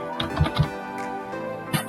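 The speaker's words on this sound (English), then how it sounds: "if you are typing Amitabh" Computer keyboard typing during an Excel spreadsheet lesson, a few light close keystrokes clustered early and one more near the end, quiet and without talk.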